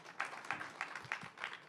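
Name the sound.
applause as a farewell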